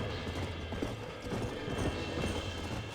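Horse hooves clip-clop in a steady, close rhythm on the Beecher's Hope ranch in the video game Red Dead Redemption, with a faint background hum and no clear talk.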